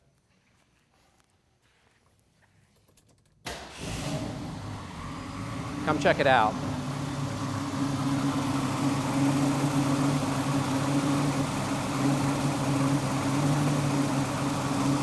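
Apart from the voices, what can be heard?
1970 Ford Boss 302 Mustang engine starting and idling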